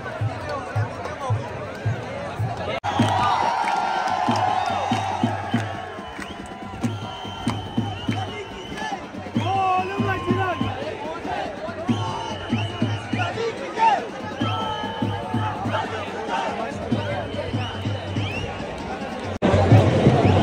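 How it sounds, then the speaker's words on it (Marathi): Dense crowd packed along Marine Drive in Mumbai during a cricket trophy celebration, a continuous loud hubbub of many voices with rhythmic chanted slogans and cheering swelling throughout. "तुम्ही गर्दी बघू शकता माझ्या चारी साईडला, आणि पुढेही गर्दी आहे मंडळी, आणि नारे चालू आहेत ते वेगळे"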